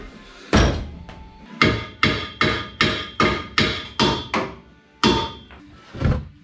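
A hammer strikes a bent pipe in a dozen loud, sharp, evenly spaced metallic blows, with a short pause before the final few hits.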